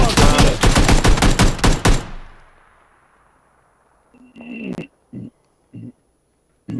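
A rapid burst of automatic gunfire in a video game rattles for two seconds and fades out, followed by quieter scattered thuds and a few short clicks.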